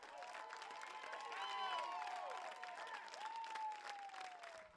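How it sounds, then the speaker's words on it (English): Central fans at a high school baseball game give a warm round of applause, distant crowd clapping mixed with whistles and scattered cheers, fairly faint. "he gets a nice round of applause from the Central fans here"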